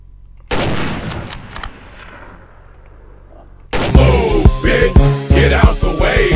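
Video game gunfire from Garry's Mod, with loud, sharp shots bursting out after a quieter stretch, several rapid cracks in close succession near the end.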